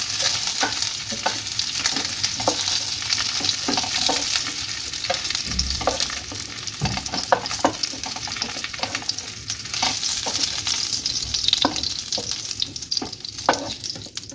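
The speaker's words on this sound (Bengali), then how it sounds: "এইভাবে আমি ফুলকপিগুলোকে ভেজে রাখলাম।" Cauliflower florets fry in oil in a wok, giving a steady sizzle with frequent scraping and stirring clicks from a spatula. The sound is close and continuous and plays without any talk.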